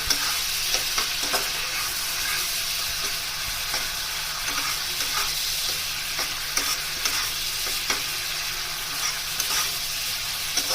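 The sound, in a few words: sautéing masala in oil until oil separates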